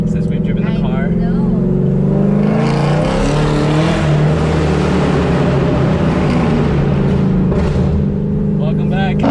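A car engine at an organized Miami car meet with supercars, muscle cars and JDM cars, droning steadily and loudly close by, rising into a rev around the middle, with people talking over it throughout.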